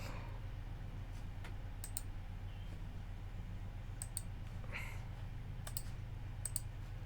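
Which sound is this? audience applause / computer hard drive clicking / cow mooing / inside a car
computer hard drive clicking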